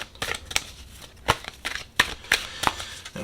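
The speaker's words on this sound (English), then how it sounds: "We're going to go ahead and shuffle." A deck of Archangel Oracle cards is shuffled by hand at close range, producing crisp riffles and sharp slaps in an uneven rhythm with no talk.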